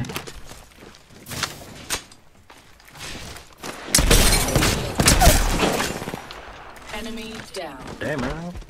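Bursts of automatic gunfire and impacts during an Apex Legends Season 14 firefight, loud bursts clustered mid-clip among footsteps and game effects, with voices talking over parts of it.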